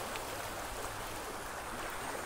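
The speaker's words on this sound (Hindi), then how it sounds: "देखिए पानी के, देखिए बहती धाराओं को देखिए" Water in a natural stream rushes steadily with a soft, continuous broadband hiss, heard alone at low level from a morning scenic spot near Bokaro.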